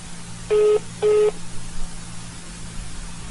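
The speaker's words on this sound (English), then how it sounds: "Can you hear it beeping?" Two short electronic telephone tones sound while a call sits on hold, each about a quarter second long and spaced half a second apart, followed by quiet line hiss.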